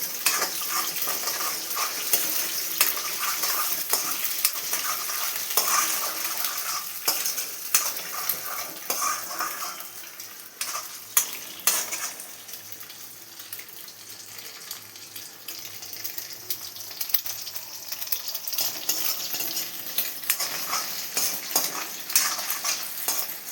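Egg noodles with four eggs being stirred in a frying pan, a steady bright sizzle under repeated scraping and clinking of a utensil against the pan, close and continuous with no talk.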